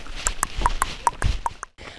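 Horses in a stable in the Urals near Kyshtym: hooves clip-clop unevenly on a hard floor, close by, with a few faint higher clinks between steps and no talking.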